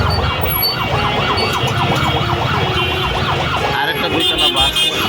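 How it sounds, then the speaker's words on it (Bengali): An ambulance siren wails loudly and close by in busy street traffic with buses and motorcycles. Its steady up-and-down warble runs throughout over the rumble of engines. "অ্যাম্বুলেন্স দেখতে পাচ্ছি"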